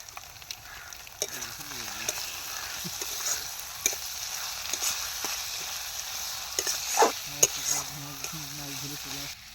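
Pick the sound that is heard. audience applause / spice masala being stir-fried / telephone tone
spice masala being stir-fried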